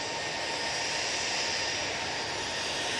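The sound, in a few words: Ryanair jet airliner on its takeoff roll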